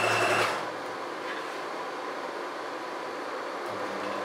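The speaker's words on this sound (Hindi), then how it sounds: "यहाँ से हम आसन की सिलाई लगाना शुरू करते हैं।" Sewing machine stitching a shalwar, a steady fast mechanical whirring and clatter running throughout at moderate level, with no voices.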